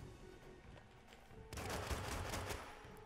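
Gunfire in the video game Fortnite, quiet at first and then a sudden burst of rapid shots that continues as a dense crackling volley in the second half, fairly faint overall.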